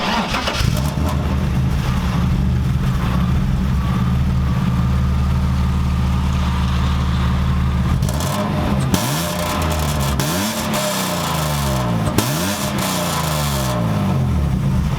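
A BMW E30 with a swapped engine idles with a low, even burble, then the revs are blipped several times, each rising and falling sharply, loud and close with no talking.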